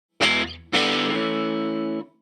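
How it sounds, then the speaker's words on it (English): A Rickenbacker 350 electric guitar played through a plain overdrive effect: a short distorted strum, then a second chord left ringing with a smooth, creamy sustain for over a second before it is cut off. "That regular overdrive thing seems to really do well for the Rickenbacker sound"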